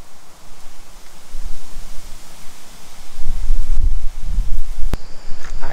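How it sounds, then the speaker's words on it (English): Strong wind blows outdoors in heavy, rising gusts, with broad low rumbling buffets growing louder toward the end and a steady rushing hiss throughout. "It's a lot of wind."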